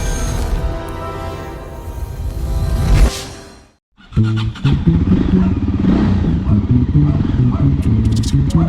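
A Voge 300 Rally motorcycle riding on sand, with a loud close engine roar and clattering that cuts out briefly, then returns with a throbbing, revving drone.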